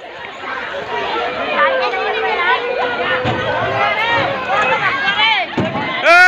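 A crowded mela fairground is filled with a dense babble of many overlapping voices. Chatter and calls come from near and far, and a close voice talks over the hubbub.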